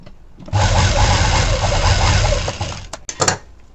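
A sewing machine stitches a plain blouse in a close, loud burst of rapid mechanical whirring lasting about two seconds, followed by a few sharp clicks and handling knocks.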